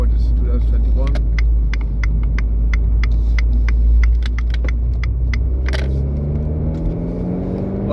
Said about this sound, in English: This sound is gorgeous that you hear now from the exhaust.